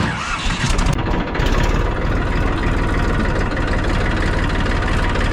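A tractor engine runs loud and close on a Robusta coffee farm, settling after a rough first second into a steady low idling chug with a rapid regular pulse.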